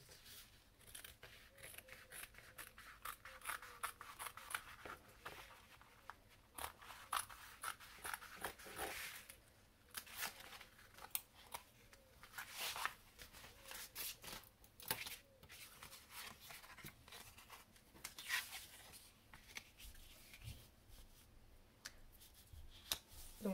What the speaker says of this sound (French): Donc je vais découper un morceau,